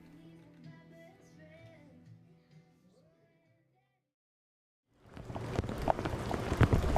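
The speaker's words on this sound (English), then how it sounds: "Here in the mountains, the deluge has been relentless." Heavy mountain rain pours down loudly after a short quiet stretch, a dense, steady hiss spiked with sharp drops, following faint soft music.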